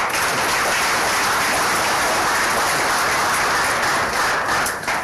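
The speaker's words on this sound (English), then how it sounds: "A little applause." Sustained applause from a large audience, dense and steady clapping filling the whole stretch without pause.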